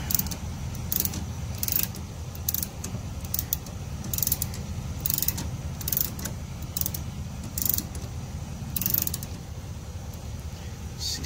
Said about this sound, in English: I'll go ahead and tighten down my weight distribution bars.